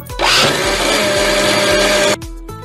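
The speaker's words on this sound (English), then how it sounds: "Put it in the blender." A blender blending coconut milk and sugar whirs loudly and steadily for about two seconds, then cuts off abruptly, leaving a faint hum.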